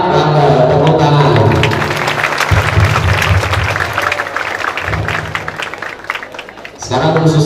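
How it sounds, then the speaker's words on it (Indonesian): Students clap together at a National Children's Day assembly at SMK Negeri 1 Rembang, the applause swelling then fading as a voice speaks over the crowd before the clapping stops. "Tepuk tangan."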